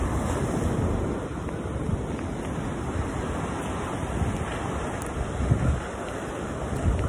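Steady wash of sea waves rolling onto a beach, a constant broadband roar with gusty wind noise on the microphone and no talking.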